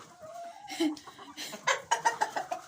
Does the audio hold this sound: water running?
no